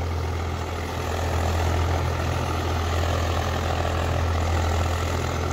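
A Swaraj 744 XT HLM tractor engine runs steadily at a low, heavy idle-like drone, loud and constant throughout with no talking.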